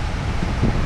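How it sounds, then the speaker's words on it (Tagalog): Gusty wind buffets the microphone outdoors on a farm plot being fenced and ploughed, a constant low roar with slight surges and no speech. "Ang hangin."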